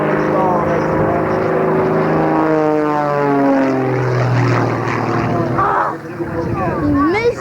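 A propeller aerobatic aircraft performs at the 1994 Rhode Island Air National Guard air show. Its loud engine drone rises and falls in pitch as it climbs, stalls and rolls, while an announcer talks over it throughout.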